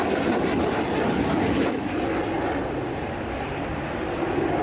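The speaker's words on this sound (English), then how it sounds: "So Jonathan coming in for a low approach." Propeller airplane in a bright colour scheme flying a low approach during a display at the 2002 Shoreham Airshow, its engine a steady, loud, broad roar passing close by with no talk over it.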